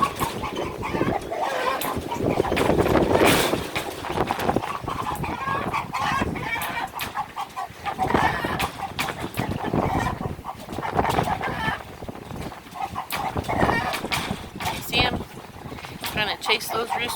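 Roosters, including a big red one, cluck and crow on a farm, close and loud, with someone talking over them.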